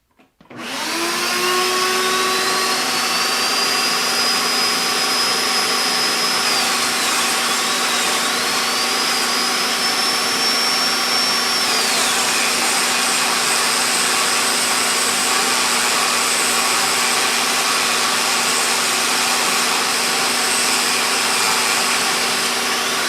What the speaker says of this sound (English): And here's the big boy, cutting some steel.